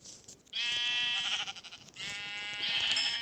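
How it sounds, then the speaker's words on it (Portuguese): A sheep in a survival video game bleats twice, each call a long, harmonic, wavering cry at close range with a short gap between, no talking over it. "Vou matar essa ovelhinha aqui."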